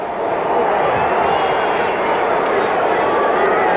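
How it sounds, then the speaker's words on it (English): Big stadium crowd of about 63,000 at a 1977 Dallas Cowboys vs Denver Broncos football game, applauding the Dallas defense: a steady, dense roar of clapping and cheering that holds loud and even throughout. "And the Dallas defense is applauded by this big crowd of"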